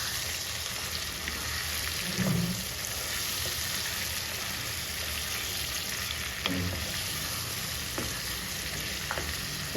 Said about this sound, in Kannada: ಇದು ಚೆನ್ನಾಗಿ ಮಿಕ್ಸ್ ಮಾಡೋಣ.